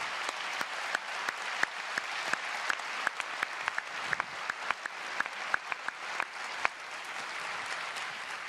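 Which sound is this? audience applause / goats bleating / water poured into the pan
audience applause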